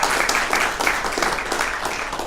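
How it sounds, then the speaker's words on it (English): A live show audience applauds, dense steady clapping from many hands filling the room at a constant level without pause. "special applause for Centralia and George"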